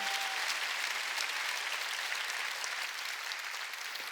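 Church congregation applauding during a Sunday worship service, a steady wash of many hands clapping that holds evenly throughout without talk.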